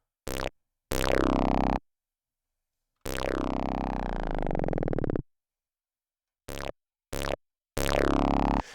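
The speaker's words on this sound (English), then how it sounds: "I added this bass preset." A bass one-shot sample in a heavy rock style FL Studio beat plays as a series of deep, booming notes of varying length. Long sustained hits alternate with short stabs and gaps of silence.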